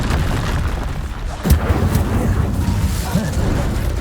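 An Incendio fire spell cast in Hogwarts Legacy, a loud whooshing burst with a sharp onset in the middle, rising over constant rumbling combat noise, with no talk.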